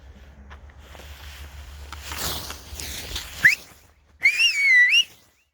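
A few short, sharp human whistles ring out to scare pigeons into flight, one quick chirp followed by a longer warbling whistle, over faint rustling and handling noise.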